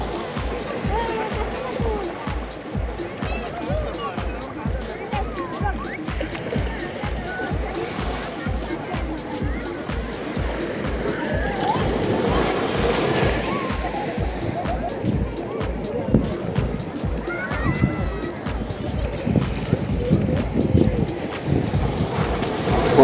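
Sea waves wash in along Vengurla beach on the Konkan coast in a steady roar with rising surges, while wind buffets the microphone and holiday crowds play near the water.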